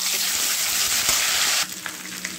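Whole garam masala, bay leaf, ginger and green chilli sizzling loudly in hot oil in a wok, a dense close hiss that drops abruptly to a quieter sizzle near the end.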